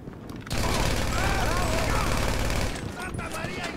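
Rapid automatic gunfire in GTA Online, a dense loud burst lasting about two seconds, with a voice talking underneath.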